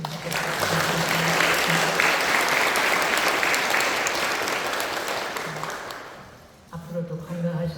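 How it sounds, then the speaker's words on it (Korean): Loud, sustained audience applause at a Won Buddhist temple service in Korea fades out toward the end, after which a voice begins talking. "우리 경사님 박수 한번 쳐주시면 좋겠습니다"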